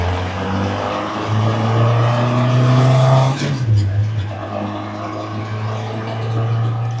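A Rad Rod SR3 car engine and exhaust drone loudly and steadily, then the note drops and settles into a lower, continuous rumble, with talk over it.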